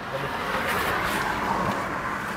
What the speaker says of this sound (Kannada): ಬನ್ನಿ, ಫಸ್ಟು ಕಾರಲ್ಲಿ ಬಿಡೋಣ